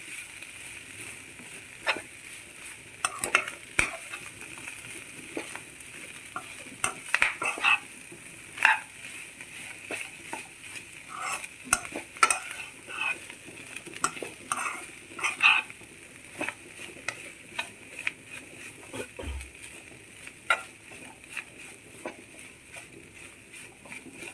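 Masala, boiled clams and onions being stirred together in a pan for a Kerala clam meat fry, giving a soft, low sizzle with irregular scraping and clinking strokes throughout, fairly quiet and with no talking.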